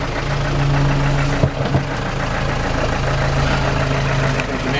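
A 1982 Land Rover Series III engine idles nearby, a steady low mechanical drone with a faint knocking rhythm and a couple of brief clunks partway through.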